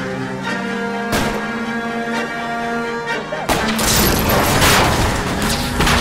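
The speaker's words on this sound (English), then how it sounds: "I'll try to shoot out his tires." Gunfire aimed at a fleeing car's tires during a chase in the video game L.A. Noire, with a sharp crack near 1.2 seconds and a dense burst of loud shots after about 3.5 seconds over a steady engine hum.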